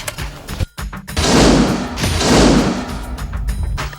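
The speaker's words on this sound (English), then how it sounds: "Guns and explosions on a teeny tiny budget." Loud, dense bursts of booming, crackling blasts that swell and fade, low-budget film special effects of gunfire and explosions, with short sharp hits around them.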